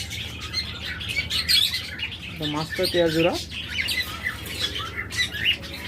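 Pet budgerigars and lovebirds chirping in a bird shop, a dense continuous chatter of high tweets and squawks from many caged birds, with someone talking over them.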